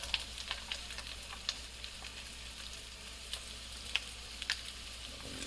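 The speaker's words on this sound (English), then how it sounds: "here, it's sizzling away as it's cooking" Diced onions sizzle steadily in a hot pan, a soft continuous hiss dotted with sharp little pops and crackles, with no one talking.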